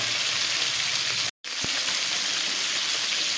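Nigella seeds, green chili, cumin and chili powder sizzling in hot oil for a light fish curry, a steady bright frying hiss broken by a brief cut, with no voice.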